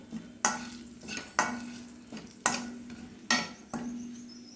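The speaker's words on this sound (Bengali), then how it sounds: "দুটো এলাচ আর দারচিনি আর লবঙ্গ ভেজে নেব যতক্ষণ তেজপাতা আর গরম মশলার সুগন্ধ বেরিয়ে আসছে" Cardamom, cinnamon sticks and cloves fried in oil in a pan, heard as soft, even sizzling with four or five rhythmic bursts of stirring and scraping, close and quiet.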